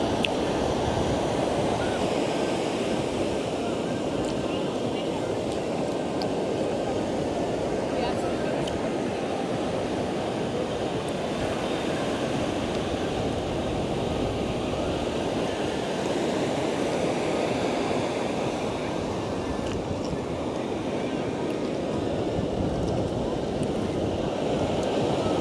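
Ocean surf rolls in continuously at Surf City beach, a broad, steady wash of breaking waves mixed with wind buffeting the microphone. Faint voices may sit under the roar.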